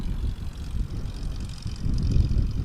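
A STOL plane at a Sodbusters short-takeoff-and-landing competition in Hartford, Wisconsin touches down on big fat tires, heard as a steady, fairly loud propeller and engine drone with low rumbling that grows toward the end.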